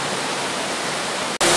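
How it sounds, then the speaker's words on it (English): Roaring waterfall at the end of a short, strenuous hike with boulder scrambling in the Zion-Bryce area, a loud, steady broadband rush heard up close with no talking, briefly cut off near the end before resuming even louder. "here we are at the waterfall"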